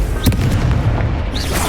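A fire spell cast in a Hogwarts Legacy wizard duel gives a loud, close magical whoosh and boom with a sharp burst near the start and a softer flare toward the end.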